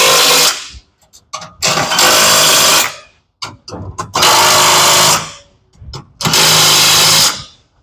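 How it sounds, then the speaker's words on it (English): A 13mm socket on a power tool tightens bash plate hardware on a Delica L300 during a Good Karrma kit install. Several loud, sustained whirring bursts are separated by short clicks and pauses. "Now we're going to need a 13mm socket and go ahead and tighten up the rest of the hardware."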